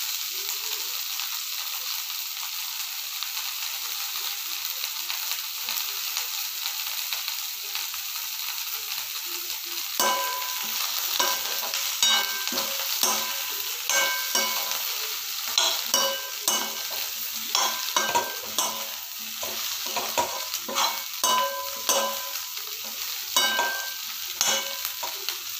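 Cauliflower sizzles steadily in a pan, quiet at first, then joined by repeated scraping and clattering from stirring, heard close up.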